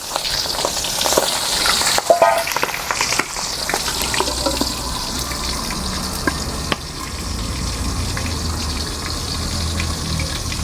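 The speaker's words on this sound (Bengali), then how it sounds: "তেল ছিটছে কাঁচা তেল দেওয়ার পরেও তেল ছিটছে" Rita fish frying in hot mustard oil in a pan, a loud steady sizzle with crackling spatter and sharp pops throughout, close up and without talk.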